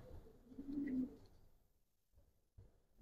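A soft, low coo from Giribaz pigeons rises briefly and fades, followed by quiet pauses and a couple of faint shuffles.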